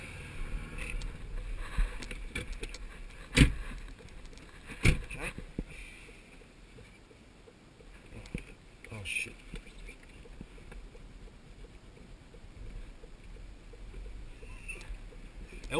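A 1995 Audi A6 with a 2.0-litre 16-valve inline-four, apparently running on LPG, driven from the driver's seat. A low engine and road drone runs throughout, with scattered knocks and clunks inside the cabin.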